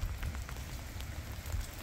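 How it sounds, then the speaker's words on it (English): Rain falls on a farm in a soft, steady patter with a low rumble beneath, faint and continuous without any talk. "We don't want to stand in the rain."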